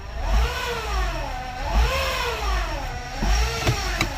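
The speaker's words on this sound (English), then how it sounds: "Couple tests here on the gas pedal, RPM." A car engine in a garage revs repeatedly on the gas pedal during a diagnosis of an engine noise, rising and falling in several smooth swells close by, with a steady mechanical whir beneath.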